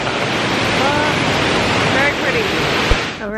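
A waterfall in Maine roars as a loud, constant broadband rush that fills the whole clip, with a voice faintly audible underneath.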